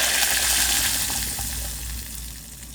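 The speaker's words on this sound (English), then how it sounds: "In with our passata." Thick tomato passata pouring steadily into a pot over golden fried garlic, a continuous wet rushing and glugging that stays close and fairly loud, with no talking.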